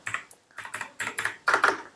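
Typing a mobile number on a computer keyboard: a quick, close run of about a dozen crisp key taps in small clusters, with no voice.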